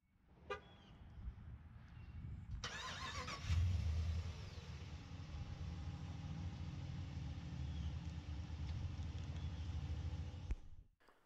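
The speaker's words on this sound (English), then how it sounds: "just double press a remote start button on the key fob" 2019 RAM 1500 Big Horn crew cab 4x4 pickup starting by remote: a couple of short beeps, then the engine cranks and catches at about three seconds, settling into a steady close idle rumble that runs until the end.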